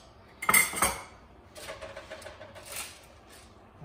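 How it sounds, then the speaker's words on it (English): Parboiled rice and vegetables for a vegetable biryani being stirred together in a pot, with a few close clanks of a utensil against the metal followed by softer scraping. "this is just to mix the veggies and rice everything"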